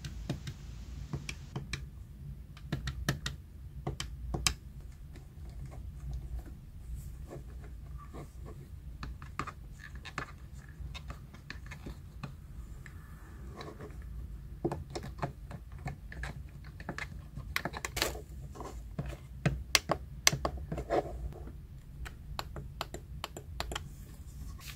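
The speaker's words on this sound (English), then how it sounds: "button clicks" Crisp plastic button clicks from a Japan-exclusive Nintendo Switch Online Mega Drive 6-button controller, tapped in irregular bursts of sharp, close ticks over near silence, with no talking.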